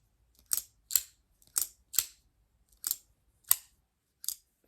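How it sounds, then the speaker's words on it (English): An Axis-style lock knife clicks open and shut seven times in crisp, sharp, close snaps, spaced unevenly with near silence between them. "It honestly sounds like the typical Axis style lock knife"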